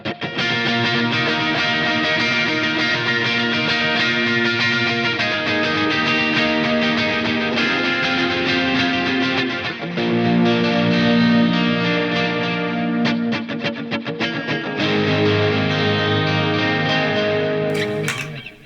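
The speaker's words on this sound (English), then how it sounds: "So it's two delays. It's a .8 delay and a quarter note delay, along with just the amp and a bit of compression" Electric guitar played through a Mooer GE1000 modeller on a preset, with dotted-eighth and quarter-note delays plus amp and light compression, rings out steadily and loud with shimmering repeating echoes trailing each note, no voices.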